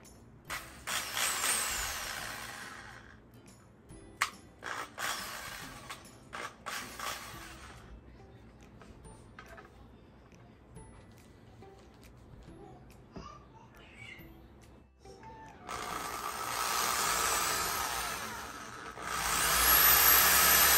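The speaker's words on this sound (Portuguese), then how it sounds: "vou fazer aqui um pré-furo e depois eu parafuso" A power drill bores a pilot hole into the wooden base of a handmade boho-style Christmas tree, with two bursts of whirring separated by quieter creaks and handling noises.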